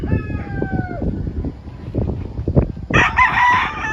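A rooster crows on a game fowl farm, loud and close, the final crow rising sharply near the end over a busy background of other birds' calls and low farmyard noise.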